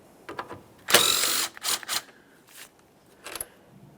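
A hand ratchet works 10mm mounting bolts loose from the air inlet tube of a 2009-2014 Nissan Maxima with a 3.5L V6, giving close bursts of rapid clicking separated by short pauses.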